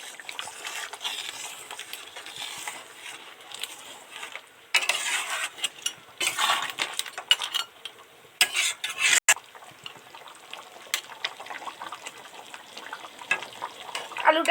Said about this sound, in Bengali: এদিকে তো টকবক টকবক করে ফুটছে